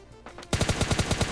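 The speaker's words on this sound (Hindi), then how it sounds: "यहाँ पे देखो सामने मतलब यूएमपी का साउंड आ रहा था" A UMP submachine gun fires a rapid burst of about nine evenly spaced, punchy shots in the mobile shooter PUBG Lite, following a couple of fainter distant pops, loud and close with no talk.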